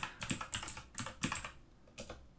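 Fingers typing on a computer keyboard in short bursts of quick keystrokes with brief pauses, close and clear, with no talking.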